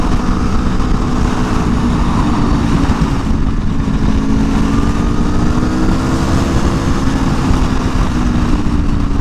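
A 2022 Aprilia Tuono V4 1100 Factory motorcycle is ridden hard on a race track, its engine roaring loud and close with rising and falling revs throughout, with no talking.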